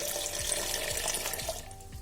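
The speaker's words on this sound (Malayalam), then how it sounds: "നല്ല തണുത്ത 2 ഗ്ലാസ് വെള്ളം ഒഴിച്ചു കൊടുക്കാം" Cold water poured into a mixer jar with ice cubes for lemon juice, a steady close splashing flow that thins toward the end.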